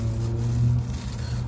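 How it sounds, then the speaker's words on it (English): A sports car drives past, its steady low engine drone swelling slightly mid-way before easing off, heard alone and at moderate distance. "I just heard a sports car,"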